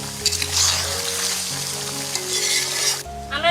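Duck eggs sauté in oil in a pan, giving a steady, loud, close sizzle with some clinks and stirring scrapes, cut off abruptly near the end.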